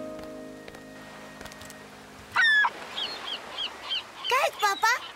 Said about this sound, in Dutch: Kijk, papa. Meeuwen.